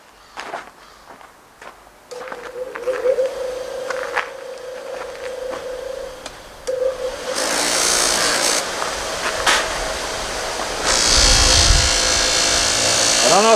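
A dedicated buffer wheel polishes a lathe-machined loader control knob for a Kubota BX25-D. A motor hum starts up and builds into loud, rushing buffing noise as the part is pressed to the spinning wheel, with people talking at points.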